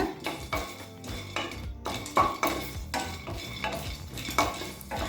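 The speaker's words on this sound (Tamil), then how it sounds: "இப்போ வேர்க்கடலையை நல்லா வறுத்துக்கலாங்க." Peanuts dry-roasting in a pan for tomato dosa, stirred briskly with a spatula in a regular rhythm of scraping strokes and rattling nuts, close and fairly loud, with no talking.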